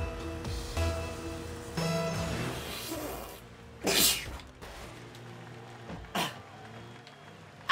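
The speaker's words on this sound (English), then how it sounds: "I sneezed and I was taking the shot." One person sneezes sharply during a Rocket League match on Xbox. The sneeze comes as a single short burst over game sounds, and a second smaller burst follows a couple of seconds later.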